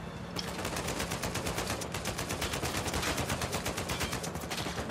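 Rapid, continuous automatic gunfire in Uncharted 4 plays as a dense, even stream of shots, loud and close, running the whole time with no talking.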